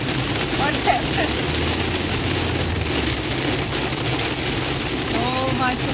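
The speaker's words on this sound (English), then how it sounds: "So much rain, friends." Heavy rain drums steadily on a moving car on the way to market, a dense continuous wash with low engine rumble beneath and occasional voices in the cabin.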